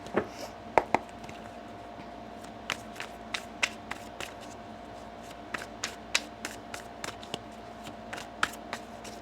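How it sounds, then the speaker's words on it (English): Tarot cards are shuffled by hand in a quiet room, giving a faint, irregular run of soft snaps and riffling flicks. "One more shuffle."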